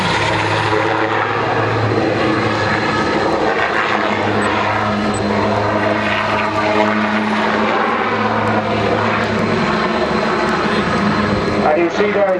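A Swiss Eurocopter Cougar helicopter performs an airshow manoeuvre, its engine and rotor noise a loud continuous drone with a steady low throb, while a commentator talks over it.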